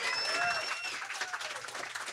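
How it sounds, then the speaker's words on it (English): Audience applause at a live comedy podcast show in a Chicago club, a steady wash of clapping from a crowd that holds for about two seconds, with some cheering voices mixed in. "Give yourselves a round of applause"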